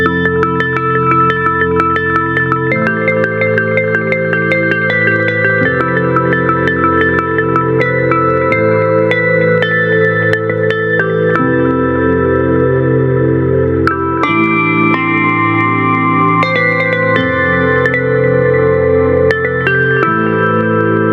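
High-pitched synth lead from the Analog Lab software instrument plays a melody over lower layered chords that change every few seconds, with echo and reverb trails, loud and continuous with no voices.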